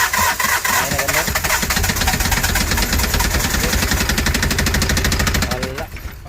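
A Kia Bongo Frontier 3.0 JT diesel engine with a knocking fault and overheating cranks and runs loudly, giving a rapid, rough, rhythmic clatter close by that slows and dies away at the end, with a voice partly audible over it.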